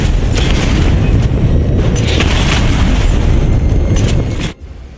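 Missiles from a lock-on attack in Batman: Arkham Knight detonate on several enemies at once, producing a loud, dense wall of booming blasts that rumbles continuously and then cuts off abruptly near the end.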